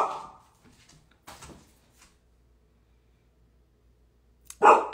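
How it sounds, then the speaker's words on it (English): A dog barking at a passing truck lets out a few sharp barks at irregular intervals, separated by quiet pauses, with one loud, close bark near the end. "she's barking at a truck"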